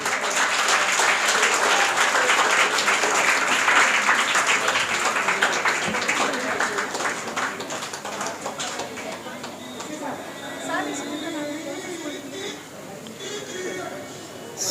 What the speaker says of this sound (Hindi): ये तालियां है 3rd प्राइज के लिए